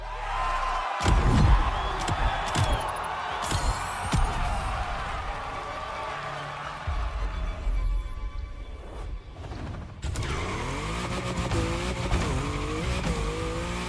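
Mercedes AMG One hypercar driven in The Crew Motorfest racing game, a steady loud engine drone with rising and falling revs, brief tire squeal, and a sharp gear-change shift near the end, no talk over it.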